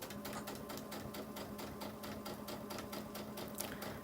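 A sewing machine stitches steadily at close range, its rapid, even needle pulses running continuously over a faint motor hum, with no talking.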